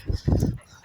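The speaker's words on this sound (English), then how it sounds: "I've got a loose dog behind my back now." A single short, gruff dog bark, loud and close, followed by quiet.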